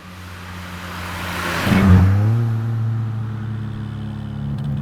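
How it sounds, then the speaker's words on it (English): A 1980s Suzuki-GM car engine revs up as its turbo spools, a quiet rising whir climbing briefly over the steady engine hum, with no one talking. "If you really listen, you can hear the turbo spool up"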